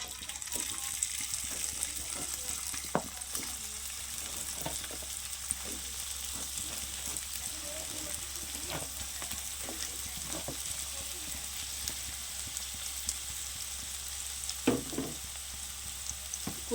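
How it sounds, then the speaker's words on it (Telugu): Bitter gourd pieces frying in hot oil in a pan give a soft continuous sizzle, with occasional clinks and stirring knocks and a faint low background hum; no speech is heard. "నూనె కాగిందమ్మా కాయలు వేసుకుందాం"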